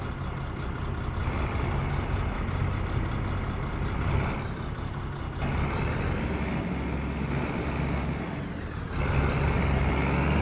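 A tractor engine in Farming Simulator 22 drones loud and close, with the pitch rising and falling as the throttle is revved, then surging louder near the end.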